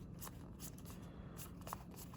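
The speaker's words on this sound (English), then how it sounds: "we'll quickly shuffle through these" A pile of Magic trading cards is riffled through, giving quiet, quick papery flicks and slaps in short bursts against a faint background.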